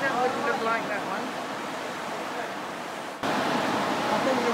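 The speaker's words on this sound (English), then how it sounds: "I think the waves are getting bigger." Ocean waves break on a Pacific Mexico beach, a broad steady rush of surf with a brief drop and then a louder swell of washing water.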